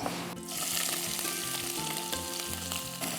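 Chopped onion hits hot oil with a sudden loud hiss, then settles into a steady, close crackling sizzle while a dish of chui jhal chola bhuna is cooked.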